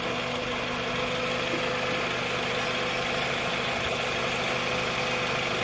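A Toyota Previa van engine runs close by with a steady, rough mechanical drone and vibration, its revving held fairly even across the short stretch, with no talking.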